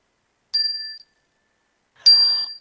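Two clear bell-like chimes ring out alone in quiet, signalling a cool-down break, each a bright sustained tone that rings briefly and fades, the second slightly louder and fuller.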